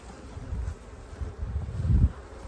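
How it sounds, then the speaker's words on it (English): Honey bees buzz around an open hive during an inspection, a low droning hum that swells and fades in a few close passes, with no voices. "along with, of course, the bees. Some of these are drones, some of these are field bees, some of these are worker bees"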